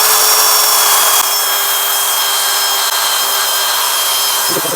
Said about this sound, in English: Now let's start polishing it.